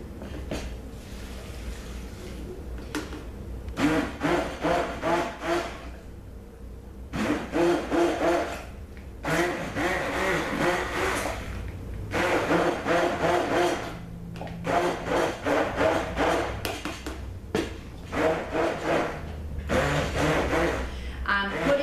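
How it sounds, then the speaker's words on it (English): A stick blender whirs in repeated bursts of a few seconds each, with pauses between, close up and moderately loud, mixing lumps of hard soap oils for cold process soap. "Stick blender on top of lumps of oil, of the hard oils."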